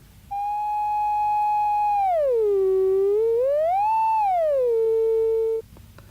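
A clean electronic oscillator tone holds steady, then glides down, swoops back up and settles lower before cutting off after about five seconds.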